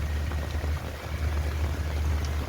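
Steady rain falls at night, a dense even hiss of drops close by, continuous and moderately loud with no voices.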